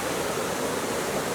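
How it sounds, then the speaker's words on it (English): Steady rushing roar of the waterfall at Alsea Falls, Oregon, a continuous broadband wash of falling water, moderately loud and unchanging over a brief moment. "I came to see a waterfall."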